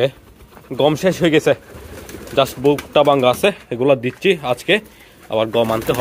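Pigeons in a loft coo low and soft while being fed broken wheat, their murmuring calls running underneath someone talking nearby.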